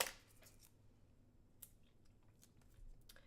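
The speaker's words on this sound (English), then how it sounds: "I will take a scissors and cut some of them into strips" Scissors snip through paper squares to cut them into strips, a few crisp clicks and slicing strokes spaced irregularly, close and fairly quiet with no talk.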